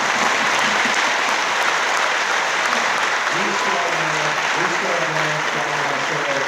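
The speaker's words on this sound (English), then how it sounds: "Can you please join me in a round of applause for the students?" An audience at an annual meeting gives a sustained round of applause for students, dense and steady for the whole stretch, with a few voices faintly mixed in.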